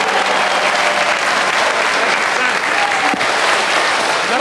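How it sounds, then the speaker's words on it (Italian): Steady, dense audience applause fills the room at an Italian stage event, continuous and loud throughout with no voices on top. "Applauso."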